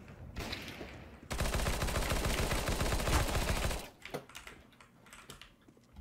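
Rapid automatic gunfire in the video game CS:GO, a dense continuous burst of shots for a few seconds, then fading to scattered quieter clicks and effects.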